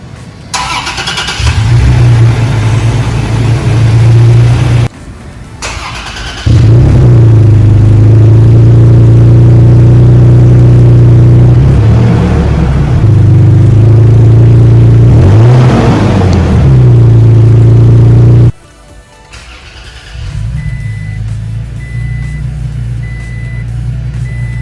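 A 2020 Toyota Tacoma TRD Pro in Army Green starts up and settles into a steady, loud idle that runs for most of the stretch. There are brief breaks in the sound, and a faint chime is heard near the end.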